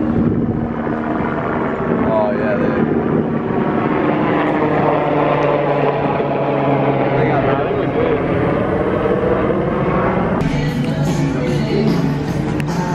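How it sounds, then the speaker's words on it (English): A helicopter drones steadily overhead in Los Angeles for the whole stretch, its rotor and engine hum loud and constant beneath voices talking close by. "There's a helicopter."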